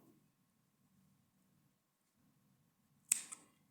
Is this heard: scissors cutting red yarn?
yes